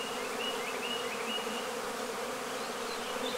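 A dense, steady hum of many honeybees buzzing close by, continuous and fairly loud with no voices.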